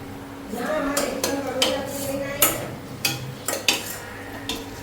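A utensil stirs onion, garlic and ginger paste in a cooking pot for masoor pulav, with a series of sharp scraping and clinking strokes in an irregular rhythm over a soft background.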